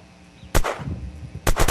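Gunfire in the video game Unturned during a PvP match: two loud, sharp shot bursts, one after a short quiet stretch and a second rapid cluster near the end, with no talking.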